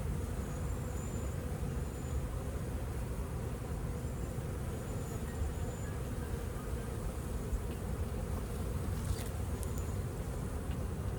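Bees fanning and buzzing around a bucket trap outdoors, a dense steady drone of many insects close by throughout, with faint distant traffic beneath and no speech.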